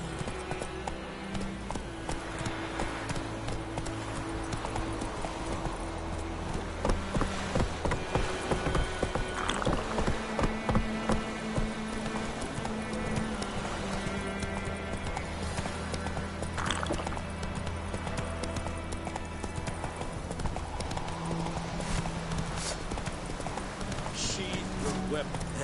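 Horse hooves galloping in The Witcher 3, a steady rapid clip-clop carried under music and other game sounds, with speech also present.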